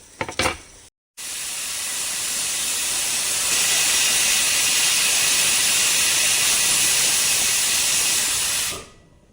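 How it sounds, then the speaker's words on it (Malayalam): A kitchen mixer grinder blends sambar masala ingredients into a smooth paste. A brief clatter is followed by a loud, steady whirring roar for about eight seconds that stops abruptly. "ഇതിനെ എല്ലാം കൂടെ നല്ല ബട്ടർ പോലെ അരച്ചെടുക്കും."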